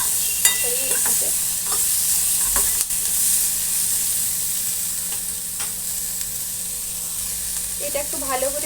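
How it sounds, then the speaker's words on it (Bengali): Pointed gourd pieces fry in a pan with a constant close sizzle and hiss, while a spatula scrapes and stirs in scattered strokes. "এটা একটু ভালো করে ভেজে নিতে হবে পটলগুলোকে"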